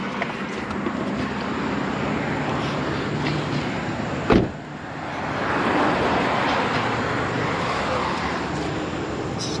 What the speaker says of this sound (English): I like getting a nice long cranking out of it just to make sure that you got a good capture.